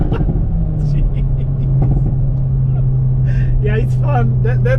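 A Hyundai i30N hatchback's engine drones loudly and steadily at a low, constant pitch throughout, with voices heard in the car over it.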